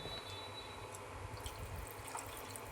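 Water poured into a cooking pan (kadai) while preparing a thin curry of flat beans, potato and shrimp, heard as a soft, continuous wash of trickling liquid that stays faint.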